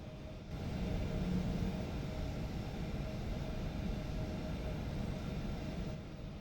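Embraer E175 jet engines rumble in a steady low drone as the airliner spools up to taxi toward the runway in the X-Plane 12 flight simulator, quiet and continuous without voices.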